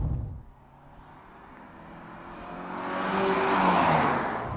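Porsche 968 car accelerating, heard from the car as the engine note climbs steadily and grows louder over several seconds with a rising whine, no talk.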